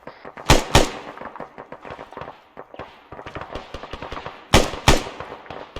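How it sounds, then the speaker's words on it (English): Rifle rounds fired into a tree line in a military video game: two loud, close pairs of sharp shots stand out over a steady crackle of quieter, rapid gunfire. "I'm gonna put a couple rounds into that tree line."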